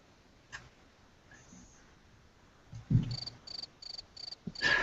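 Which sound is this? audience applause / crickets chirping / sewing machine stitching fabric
crickets chirping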